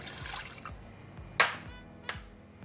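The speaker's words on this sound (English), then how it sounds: "And I'm going to pour in the water" Water poured into a taro cake (yam cake) mixture of sauce and sugar in a kitchen, a soft, steady liquid splash with a couple of brief sharper drips, fairly quiet and close.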